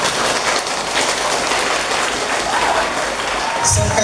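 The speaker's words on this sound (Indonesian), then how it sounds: "Ya, tepuk tangan buat kita semua." Dense, steady clapping from the audience at a Maulid Nabi religious gathering, filling the whole stretch loudly and evenly like rainfall, with no individual claps standing out.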